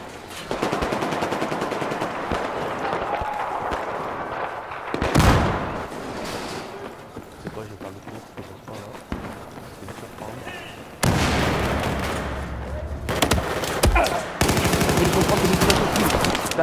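Video game gunfire in Battlefield 4: sustained rattling automatic fire with bursts and louder blasts throughout, continuing under someone talking in French.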